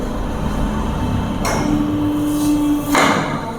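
An areca leaf plate making machine presses a 12-inch plate, giving a steady mechanical drone with a sharp thump near the start, a held hum in the middle and a second heavy press stroke just before the end.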